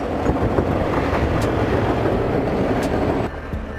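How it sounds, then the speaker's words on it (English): A snowplow-equipped train runs along railway tracks, giving a steady, loud rumble with rhythmic wheel clatter that continues for several seconds before dropping off slightly near the end. "A train equipped with a snowplow to clear snow from railway tracks"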